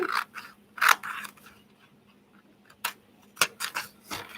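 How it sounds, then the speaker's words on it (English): Scissors cutting through a recycled paper envelope, a series of short, crisp snips in irregular bursts with quiet gaps between them, close and clear. "so we're going to cut right where the line is. I'm going to cut."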